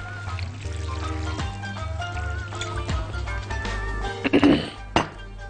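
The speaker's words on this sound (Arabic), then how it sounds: "ميه مكرونه" Starchy pasta cooking water is poured into a wok of chicken, roasted peppers and garlic, a short splashing trickle with light clinks near the end, heard over steady background music.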